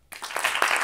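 Audience clapping at a live stand-up comedy show, a short burst of scattered claps rising quickly after a moment of silence and holding steady.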